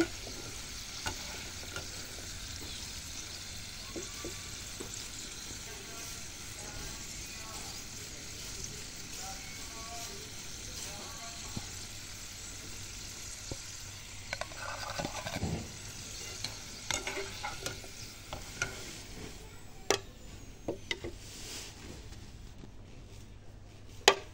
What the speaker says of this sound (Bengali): এখন এই আলুগুলো লাল লাল করে ভেজে নেব।